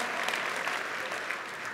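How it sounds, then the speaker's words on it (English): Keynote audience at a tech conference breaks into applause, a steady wash of many hands clapping at moderate distance, even and sustained with no pauses. "Applause for that."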